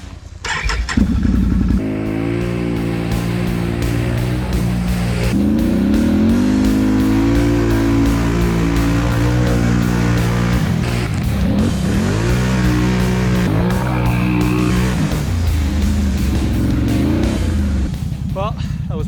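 A Can-Am Renegade ATV roars through mud on a rainy day at an ATV park, its engine loud and steady throughout, revving up and down with shifting pitch, close to the rider.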